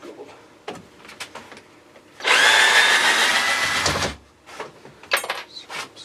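A power drill backs screws out of a guitar body mould, one loud, steady whirring burst of about two seconds close by, with quieter handling clatter before and after.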